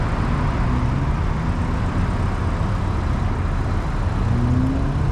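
A 2024 BMW G87 M2 idles on a vehicle scale, a steady, even engine drone with a low rumble that holds constant from start to finish, with no talking.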